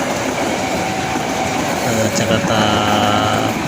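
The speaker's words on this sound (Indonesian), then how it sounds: "berarti ada kereta lewat" A Matarmaja passenger train from Malang, bound for Jakarta, rolls past and into Blitar station with a loud, continuous rumble and rail clatter close by, joined by faint background voices.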